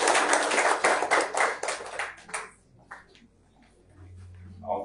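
A crowd claps steadily for a couple of seconds at the Université des Comores, then the applause dies away, leaving a quiet room with a few faint stray sounds.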